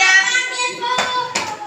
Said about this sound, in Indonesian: Kalau kesuka hati tepuk tangan.